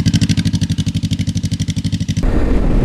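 An FKM ARY 500 motorcycle engine revs in a rapid, even pulsing throb for about two seconds, then cuts to a rougher, steadier roar.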